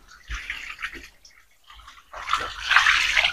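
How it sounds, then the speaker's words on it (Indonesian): Water is poured over a block of tofu to rinse it, splashing in two close bursts separated by a short pause, the second burst louder and longer, with no voices. "sebelum itu kita siram tahunya seperti ini"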